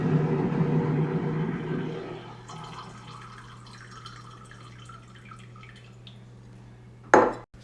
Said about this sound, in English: now I'm going to add this acid to this water